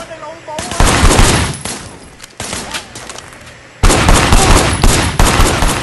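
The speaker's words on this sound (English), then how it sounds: "Shooting at the guys over there." Gunfire in the Sleeping Dogs video game, loud bursts of rapid shots in several volleys separated by brief pauses, dense and close.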